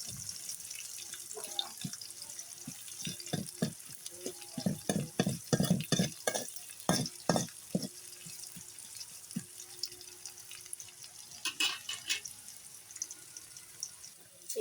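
Onions go into hot oil in a home kitchen, giving a soft sizzle beneath a run of close, irregular clatters and knocks from utensils and stirring that fade toward the end.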